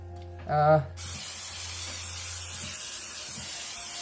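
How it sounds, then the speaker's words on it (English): After a brief voice, a can of cooking spray releases a steady hiss for several seconds, close and even, fading slightly toward the end. "spray some cooking spray on the bottom"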